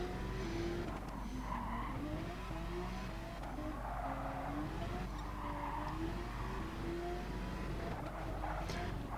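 Race cars in the GT Sport video game lap a track. Engines drone steadily with rising and falling pitch as gears change, and a tire squeal shows up now and then over the continuous pack noise.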